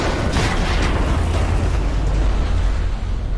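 Rocket launcher blast in the video game Detroit Become Human, a loud, dense booming explosion with rumbling low end and crackling debris that rolls on for a few seconds before fading slightly.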